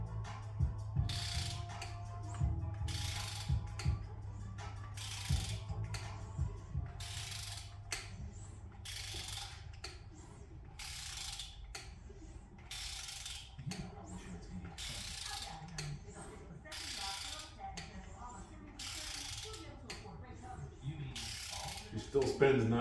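Cheap Harbor Freight torque wrench ratcheting an engine over by hand for winter storage, a steady series of sharp clicks in bursts, close and distinct, over a low background hum.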